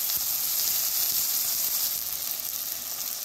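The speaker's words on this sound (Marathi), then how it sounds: "2 मिनिटासाठी इथं टोमॅटो भाजून घ्यायचं आपल्याला." Tomatoes and onion roasting in a pan with turmeric added, making a continuous soft hiss and crackle at moderate level with no talking.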